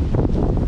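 Strong gusting wind outdoors at Mount Lofty near Adelaide, a continuous loud rumbling buffet with no pauses, close and filling the whole moment.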